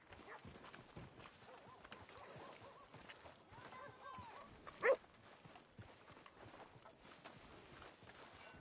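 Horse hooves clip-clop at a walk in the Red Dead Redemption 2 video game, soft rhythmic steps under quiet game ambience and a sharp brief sound midway, with voices talking intermittently.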